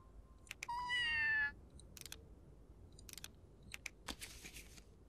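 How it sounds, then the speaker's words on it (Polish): A cartoon cat wearing boots meows in the Scribblenauts Unlimited video game, one drawn-out harmonic meow near the start, followed by scattered clicks and brief game effects in a quiet background. "Mamy tu jeszcze kota w butach."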